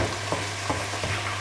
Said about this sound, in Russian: Обжариваем все это дело минуты 3-4 до мягкости лука.